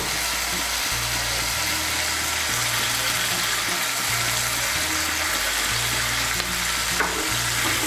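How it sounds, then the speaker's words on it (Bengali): A paste of chili powder, turmeric and salt frying in hot oil, a steady loud sizzle throughout with a spoon stirring and scraping in a low repeating rhythm underneath. "মশলাটাকে একটু ভালো করে কষিয়ে নেব"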